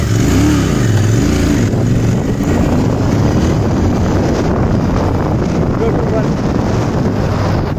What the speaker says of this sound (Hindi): First gear GT continental 650, how much it goes, देख लो.